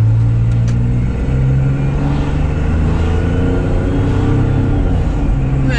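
Van engine straining to accelerate up a steep hill while loaded with several chairs, giving a loud, continuous low rumble that builds under load, with road noise all around inside the cab.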